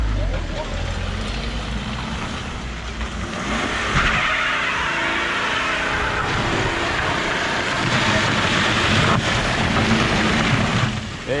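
A BMW 330d E46 diesel sedan driving a lap, with a steady loud engine drone and rising revs, tyre and road noise filling the whole stretch from inside or near the car.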